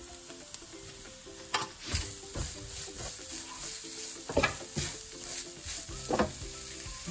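Sugar sautés in ghee in a pan for unnakaya while a spoon stirs it, giving a soft sizzle broken by several sharper scraping strokes against the pan, close and without speech.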